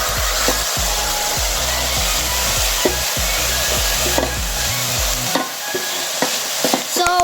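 Banana flower fry being stirred in a pan with a spatula, steady sizzling frying hiss under repeated scraping and clanking strokes close up, no talk.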